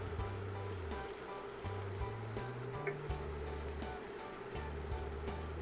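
Food frying in a pan on a stove with mustard paste added, a soft continuous sizzle and hiss under a low steady hum, faint and even throughout with no speech.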